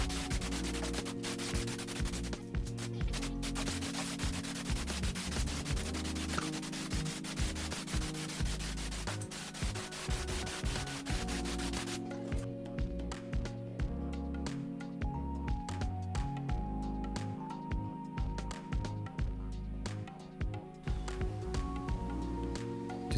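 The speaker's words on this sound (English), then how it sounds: "Just give it a bit of a wet sand" Wet sanding on a plastic Subaru Brumby bumper gives a steady, close scrubbing rasp with rapid back-and-forth strokes, loud for the first half and then somewhat softer and more broken, with no speech.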